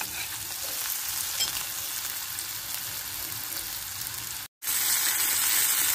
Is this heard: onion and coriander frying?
yes